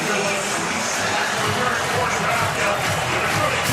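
A sellout crowd at Memorial Stadium for a college football game roars in a dense, continuous wash of cheering and shouting, with a voice faintly talking under the noise.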